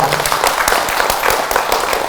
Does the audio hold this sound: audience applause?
yes